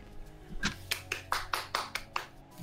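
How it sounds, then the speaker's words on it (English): A handful of hand claps, about seven, at an uneven but fairly quick pace, close by and moderately soft. "we clap for that"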